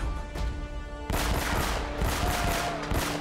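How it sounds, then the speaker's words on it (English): Rapid pistol shots in an Uncharted firefight, a quick burst of cracking gunfire after a brief lull, loud and close, with background game music underneath. "my fire rate of this pistol is pretty good"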